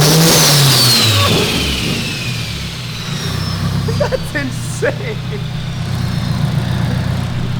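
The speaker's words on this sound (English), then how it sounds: "Easily probably one of the gnarliest Hondas I've heard." A 600hp turbocharged Honda with a hood-exit exhaust revs hard at the start, then falls back to a rumbling idle; a short exclamation and distant voices are heard over the engine.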